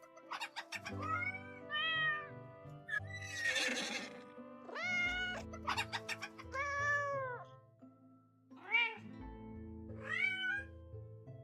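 Cats in the Hidden Kittens: Kingdom of Cats game meow repeatedly, a series of clear, close, drawn-out mews and trills with brief gaps, one harsher hissing burst in between, with no talking over them.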